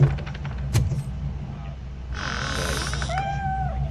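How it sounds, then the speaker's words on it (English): A cat meowing in a video game: after a second or two of low background rumble and a faint jangle, one long, drawn-out meow rises and bends downward near the end. "The cat is fine."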